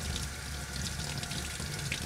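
Lukewarm tap water runs steadily into a sink to wash a 3D printed part, a soft continuous stream with faint splashing, fairly quiet and close, no talk.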